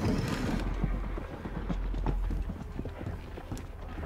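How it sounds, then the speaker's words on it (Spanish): Horse hooves clip-clop in A Plague Tale: Innocence, a continuous run of close, dense hoofbeats over a low rumble, with no talk over them. "Suenan caballos."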